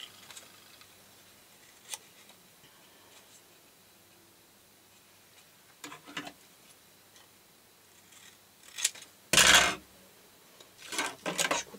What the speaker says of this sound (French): Je vais couper ça.